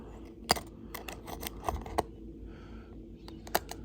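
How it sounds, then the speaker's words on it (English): Loose laptop keyboard keys clatter and tick as they rattle and fall out, a scatter of sharp, light plastic clicks with a few louder snaps, close and fairly quiet. "So you tilt it and then all the keys go flying."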